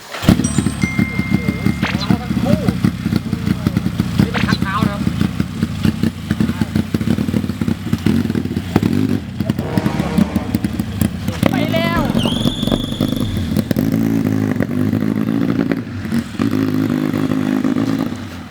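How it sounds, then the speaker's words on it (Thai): A Honda Wave motorcycle fitted with two carburetors runs steadily, its engine a dense rapid clatter with revs rising and falling throughout, close and loud, while someone speaks over it. "เดี๋ยวลอง ฟังเสียงมอเตอร์คอมโปกัน"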